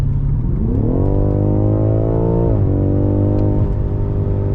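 A turbocharged car accelerates hard through its gears, its engine note climbing steadily, dipping at a shift, then rising again. The loud, continuous roar is heard from inside the cabin with no talking.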